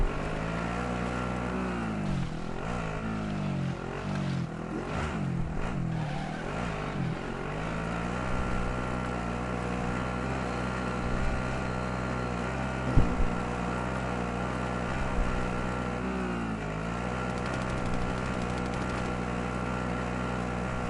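Steady engine drone of a vehicle being driven in Warzone, a continuous harmonic hum holding at a fairly constant pitch, with a brief wavering rev early on and a couple of faint knocks.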